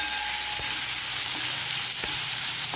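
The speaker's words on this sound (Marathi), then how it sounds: "आता छानपैकी परतून घेऊया।" A ginger, garlic and coconut paste being sautéed in a pan for a mixed vegetable curry, with a loud continuous close sizzle and a few soft stirring scrapes, no voices.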